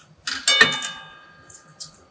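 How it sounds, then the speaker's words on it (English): Payphone coin tone for a quarter, a single bright bell-like bong that rings and decays over about a second, followed by faint small clicks, close and alone. "This is the sound of a quarter."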